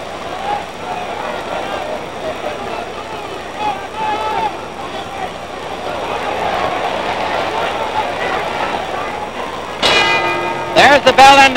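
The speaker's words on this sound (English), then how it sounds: "There's the bell ending round 3." A boxing ring bell clangs near the end of the third round, a few sharp metallic strikes cutting through steady arena crowd noise and a commentator's voice.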